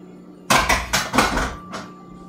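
Used dishes from the night before are cleared away in a few loud, close clatters of plates and utensils, followed by a fainter knock.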